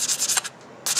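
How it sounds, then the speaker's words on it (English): Sandpaper scrubs rust off a metal part being readied for cold bluing: rapid back-and-forth rasping strokes, close and loud, pausing briefly in the middle before resuming, with no talk. "Otherwise you're going to be staring at me sanding this till the end of time."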